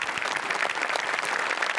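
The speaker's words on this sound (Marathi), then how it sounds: "जोरदार टाळ्या झाल्याच पाहिजेत" A studio audience at the Marathi comedy show Maharashtrachi Hasyajatra breaks into loud, sustained applause, a thick, even roar of many hands clapping with no talk on top.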